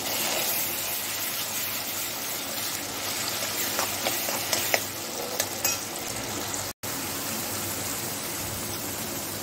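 Coconut masala paste frying in oil in a pan for amti, a steady close sizzle with scattered crackles and the occasional scrape of stirring, brief dropout midway, no talk.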